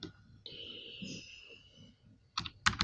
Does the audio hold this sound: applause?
no